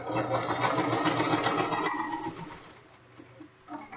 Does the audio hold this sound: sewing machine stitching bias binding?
yes